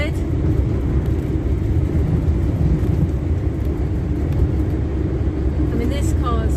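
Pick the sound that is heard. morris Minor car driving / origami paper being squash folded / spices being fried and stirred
morris Minor car driving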